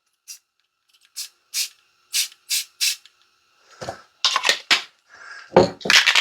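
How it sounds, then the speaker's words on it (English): Short bursts of purple spray paint hissing from an aerosol can through a stencil onto a guitar headstock, a series of separate puffs, then quicker, louder, denser sprays, close and with no talk. "I'm going to use it as a stencil to spray paint this onto the headstock"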